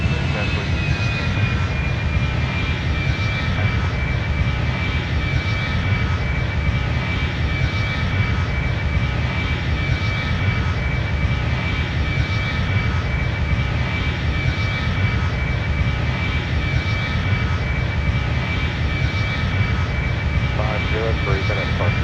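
Icelandair Boeing 757-200 jet engines roar steadily at close range during a takeoff from Rome toward Reykjavik, a dense continuous rumble with a thin high whine held throughout and no letup.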